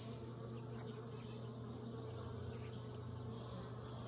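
Honeybees buzz steadily in an opened hive during an inspection, a dense continuous hum close by with no pauses.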